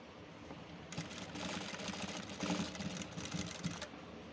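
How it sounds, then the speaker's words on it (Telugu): A sewing machine stitches alongside thread piping, a steady fast mechanical whir with a rhythmic needle patter that runs for about three seconds, close and moderately quiet, with a brief softer lead-in and tail. "ఇప్పుడు దాని మీద మనం స్టిచ్చింగ్ చేసుకోవాలన్నమాట"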